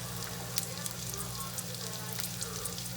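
Shallots sizzle in hot olive oil in a pan while chicken marsala is being cooked, a steady close crackling fry with no one talking.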